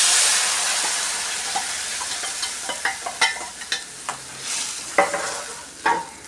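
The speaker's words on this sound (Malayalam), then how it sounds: "മസാല ഇട്ട് ഒന്നുകൂടി നല്ലവണ്ണം മൂപ്പിച്ച് കൊടുക്കാം" Ground coconut masala frying in a pan for Kerala-style egg curry, a steady sizzle and hiss with repeated sharp scrapes and taps of a spoon stirring, close and clear with no talk.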